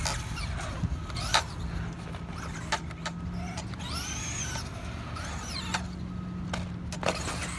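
Traxxas Slash 2wd ready-to-run RC truck at full throttle in a skatepark, a faint whining electric motor rising and falling in pitch with occasional clatters of the chassis over ramps, heard from a short distance over steady background hum.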